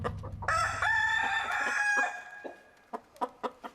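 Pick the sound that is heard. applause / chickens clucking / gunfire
chickens clucking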